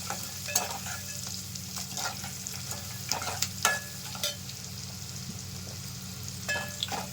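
Onions and a handful of curry leaves fry in a pan, a quiet continuous sizzle broken by scattered scraping and stirring clicks from a spatula.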